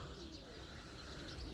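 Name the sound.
racing pigeons cooing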